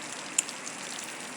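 Rain falls steadily as a faint, even hiss with an occasional tiny drop tick, soft and distant, with no voices.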